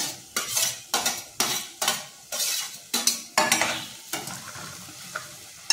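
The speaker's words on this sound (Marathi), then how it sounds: "कांदा गुलाबी झालेला आहे, आता आपण टोमॅटो टाकूया" Tomatoes go into a pan of frying onions and are stirred with a metal spoon: a soft sizzle runs under a regular series of sharp scraping strokes against the pan, about two per second, close and fairly quiet.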